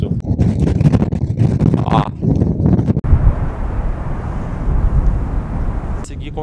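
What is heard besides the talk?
strong wind on a black sand beach in Iceland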